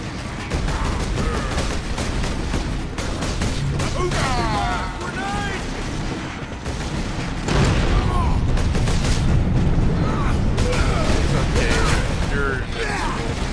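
Bursts of gunfire and mechanical clatter from a Warhammer 40,000 Space Marine battle fill the scene, repeated shots and booms over a dense, loud combat din, with a voice talking over parts of it.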